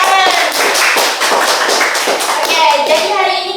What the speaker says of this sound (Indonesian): Ya, tepat sekali, tepuk tangan.